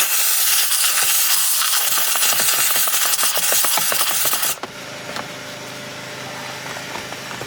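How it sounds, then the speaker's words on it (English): A hot steam cleaner blasts grime from a car's interior, a loud, broad hiss that cuts off abruptly partway through, leaving quieter mechanical rattling and ticking behind. "the steamer gets so hot it will kind of dry out some leather and stuff like that"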